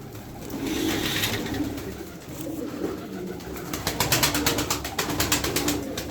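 Pigeons coo in a loft of Kırıkkale-style birds, a series of close, throaty coos that quicken into a rhythmic pulsing toward the end, with no talking.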